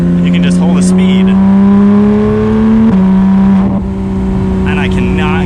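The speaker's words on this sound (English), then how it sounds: "The exhaust, of course, the upgraded exhaust makes it sound even better than I'm sure a stock one would" Porsche 911 GT3 six-cylinder engine with an upgraded exhaust revving loudly and steadily under the listener, pitch climbing, then dipping briefly and settling near the end with faint crackles.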